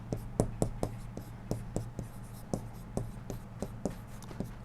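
A pen scratches across paper in quick, evenly spaced strokes while a class 7 integers maths exercise is solved, close and clear over a low steady hum, with no speech.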